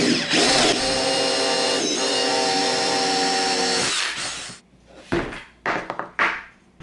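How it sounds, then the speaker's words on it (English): A power drill boring a hole through a clamped wooden pipe blank, a loud steady whine for about four seconds, then the motor stops, leaving a few clattering knocks and handling sounds close by. "drill that hole"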